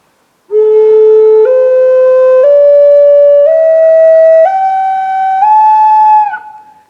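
A Native American flute plays a slow rising scale of steady, breathy notes, each held about a second, sounding thin and slightly flat because the breath is not adjusted to the rising scale.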